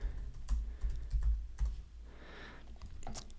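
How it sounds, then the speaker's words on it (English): Someone types on a computer keyboard, producing a quiet run of irregular keystrokes up close with a few heavier taps and no one speaking. "If I go onto the internet and type in the Bezier game"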